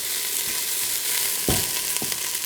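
Onions sizzle steadily in a hot pan for turkey white bean pumpkin chili, a constant bright hiss broken by a few soft clicks of stirring.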